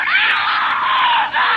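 Girls scream loudly in a video being watched, a sustained high shrill chorus of voices that carries on without a break.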